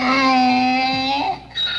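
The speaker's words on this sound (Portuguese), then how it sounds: "Jumento." A donkey sound effect: one long, loud, strained bray that drops at the end, followed by a shorter second cry, heard alone and close.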